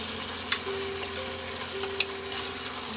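Kashmiri chili paste thinned with water sizzles in a hot pan while a chicken curry cooks, a steady close hiss broken by a few sharp utensil clinks against the pan.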